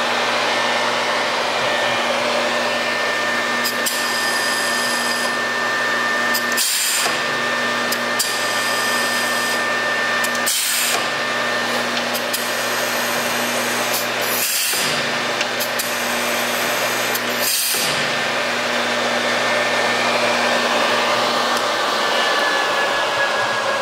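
A Karl Engelhart TWF 1000 stair trencher and multi borer runs loud and close at its second speed, a steady high motor whine with a few brief dips in pitch.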